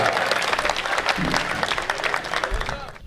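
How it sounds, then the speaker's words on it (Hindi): Loud, sustained applause from the audience at a Hindi comic poetry gathering, dense clapping filling the whole stretch before easing off at the end. "जोरदार तालियां"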